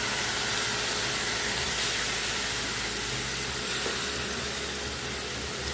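Onion paste with ginger paste fries in a pan, giving a steady broad sizzling hiss that stays even and close for several seconds, with no voices.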